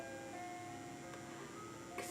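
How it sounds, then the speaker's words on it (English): An ice cream truck plays its jingle outdoors in the rain at dusk, a steady tonal melody ringing over a constant wash of rain noise, with no voices. "Ice cream truck. In the rain."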